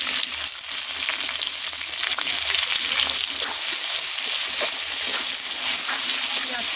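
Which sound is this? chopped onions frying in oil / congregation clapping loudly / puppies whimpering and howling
chopped onions frying in oil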